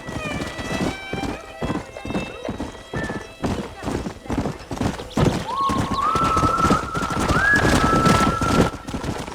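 Horse hooves clip-clop steadily at a gallop in the Red Dead Redemption western game, with a drawn-out neigh rising near the end over music and talk.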